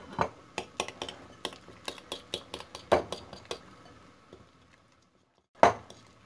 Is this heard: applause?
no